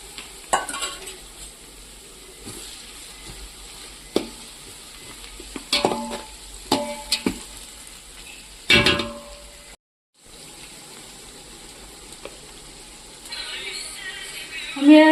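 Mustard seeds, cumin, asafoetida and ginger-chili-garlic paste sizzle in hot oil, a soft hiss broken by sharp clinks and scrapes of a spoon against the pan, with a brief pause in sound midway.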